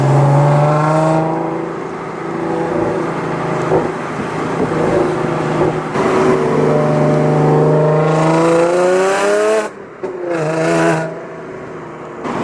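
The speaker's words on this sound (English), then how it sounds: "Just the exhaust setup is way too loud." A modified Audi S4 with a new velocity stack, air filter and a very loud exhaust setup revs hard and continuously up close, pitch climbing steadily, briefly dropping off near the end before rising again, drowning out the supercharger.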